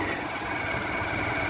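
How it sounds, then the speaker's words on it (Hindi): Motorbike engine running steadily as the bike is turned around on a hill road near a temple, a continuous close drone with a buzzing high whine. "केडी आ गए और यहाँ पर बाइक घुमा रहे हैं"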